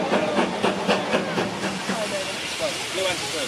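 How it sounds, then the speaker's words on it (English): A West Somerset Railway train bound for Minehead gives a steady, loud broadband hiss of steam with faint rhythmic clanks, while voices murmur close by. "this is the Minehead train which calls the Wash Street"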